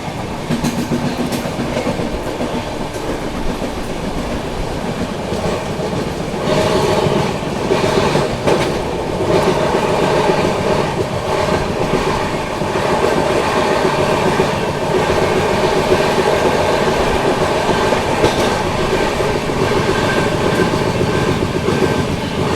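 The Seemanchal Express passenger train runs steadily on the tracks in India, a loud, continuous rumble with clickety-clack wheel rhythm and faint squeals, heard close for a long stretch without talk.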